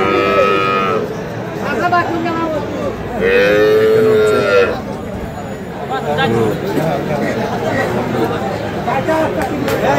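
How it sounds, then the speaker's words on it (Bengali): Dairy cows and calves at a rural cattle market in Thakurgaon moo loudly twice, with a long low call near the start and another in the middle. Steady crowd chatter and talking continue underneath. "দেখছি একটা বেটা বাছুর, এটা হচ্ছে গাভী"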